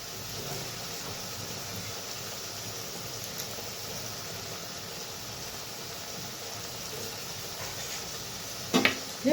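A potato and pointed gourd curry with spices is sautéed in a pan, producing a steady, even hiss of sizzling under constant noise, with a brief clatter of stirring near the end and no voices.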